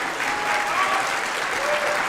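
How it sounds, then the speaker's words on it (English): A gala audience at a gratitude fundraiser claps steadily in a dense, even burst of applause that carries through the whole moment without any talking. "Let's give Jeff a big round of applause."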